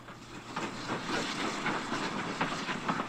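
An excursion train bound for Hunstanton pulls into the eastern end of King's Lynn station, a steady rolling rumble with hissing and faint rhythmic clatter throughout, fairly near and alone.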